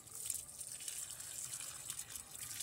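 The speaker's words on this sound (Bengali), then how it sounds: "যে গাছগুলো পুরো শুকিয়ে গেছে, আমি এই যে জল দিচ্ছি।" Water being poured onto dried-out plants makes a faint, steady splashing and trickling wash throughout.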